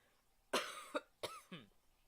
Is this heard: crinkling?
no